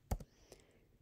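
A few faint, sharp clicks on a computer keyboard, two quick taps close together then a single later one, in a quiet room.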